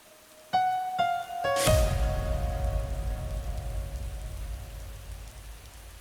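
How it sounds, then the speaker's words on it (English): A rain ambience sample enters inside an FL Studio psytrance track. A few sharp synth tones come first, then a dense, steady hiss of falling rain takes over and slowly fades. "And then now we have rain ambience."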